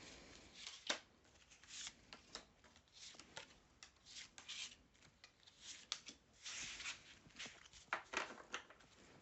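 Playing cards shuffled by hand for a tarot-style reading, a run of crisp riffling and sliding bursts, close and fairly quiet, with no talk over it.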